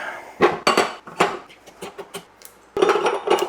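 Metal parts of a meat grinder being handled and set down, producing a series of sharp clanks and clinks with uneven spacing, close by and fairly loud, ending in a denser rattle of metal pieces.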